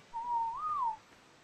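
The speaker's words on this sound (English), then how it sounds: "Oh, you've been whistling." A person whistles one sustained tune-like note that rises slightly in pitch and then falls away, clear and moderately loud over a quiet background, lasting just under a second.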